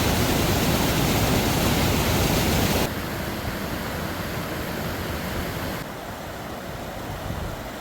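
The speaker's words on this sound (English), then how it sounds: "A quick little side trip to Cascade Falls." Cascade Falls pours as a loud, continuous, broadband rush of falling water, dense and unbroken, stepping down in level twice as if heard from shifting distances, with no voices.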